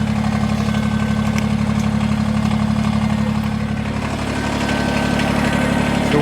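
A tractor engine idles steadily next to a small sawmill cutting a 10 ft log, a loud, constant low rumble with a throbbing vibration and no talk.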